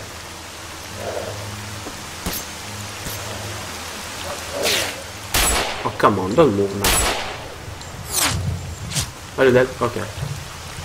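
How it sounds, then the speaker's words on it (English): Steady rain hisses in S.T.A.L.K.E.R. Call of Pripyat, with a few sharp in-game bangs and effects, while someone talks over it. "It's even raining!"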